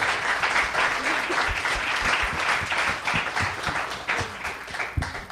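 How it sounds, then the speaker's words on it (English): Audience applause for a panel at a book presentation, warm sustained clapping from a room of listeners with individual claps standing out, moderately quiet and steady. "So let's give them another warm round of applause."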